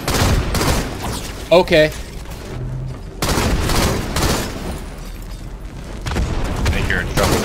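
Rapid gunfire bursts and booms from Halo gameplay, including sniper shots, crackle continuously and loudly, with a brief spoken word and a few electronic tones mixed in.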